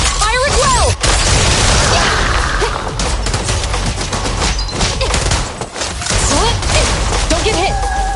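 Sustained gunfire and booming explosions from the Zenless Zone Zero video game, a dense, continuous barrage of shots and blasts running throughout.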